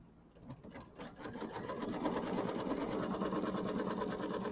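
An embroidery machine stitches a tack-down line on a small quilt, a fast, steady mechanical whirring hum that builds up over the first two seconds and then runs on evenly and close by, with no talking.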